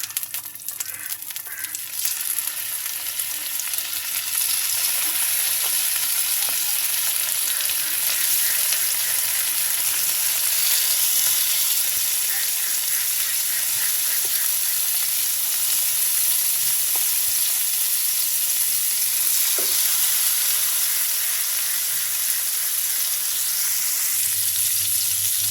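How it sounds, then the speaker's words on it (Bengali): Giant freshwater prawns fry in a shallow layer of oil in a pan, a loud, steady, unbroken hiss and crackle with no voices. "মাছগুলো ভেজে নিচ্ছি"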